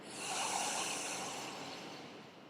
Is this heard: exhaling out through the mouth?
yes